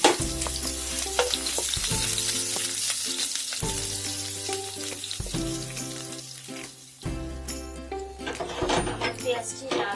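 Chopped chilies go into a pan of frying onions, giving a loud continuous sizzle with stirring scrapes and clinks, close by, while someone speaks over it.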